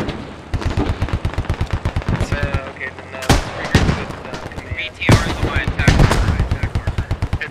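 Gunfire in the Squad military shooter, dominated by rapid automatic bursts with two heavy, sharp blasts standing out midway, loud and close, with voices faintly underneath.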